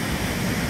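River water of the Reno at Borgo Panigale, Bologna, rushes through a roughly ten-metre overflow channel, a loud continuous broadband roar with no other sounds.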